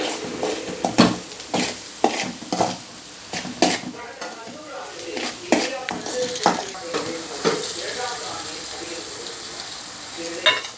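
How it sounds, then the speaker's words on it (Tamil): Food stirred and mixed in a frying pan, with irregular scraping and clinking strokes of a utensil over a soft sizzle, loud and close with short pauses between bursts. "அடுத்து நல்லா மிக்ஸ் பண்ணிக்கலாம்."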